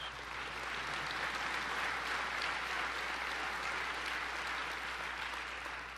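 A large crowd applauding during President Obama's speech to the people of Estonia, a dense, even roar of clapping that holds steady throughout, heard at a distance and fairly soft.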